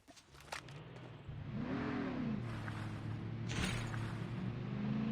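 ATV engine in the mobile shooter Call of Duty Mobile revving up and holding a steady drone, faint and near, with a few sharp game clicks and bursts over it.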